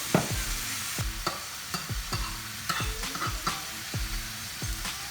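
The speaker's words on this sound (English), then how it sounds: "placing sauce on top of filet, which creates additional sound, hot sounds." Hot sizzling and frying of a lingcod fillet in a pan as sauce is added on top, with repeated scraping or stirring strokes at a steady rhythm, close and moderately loud, no talking.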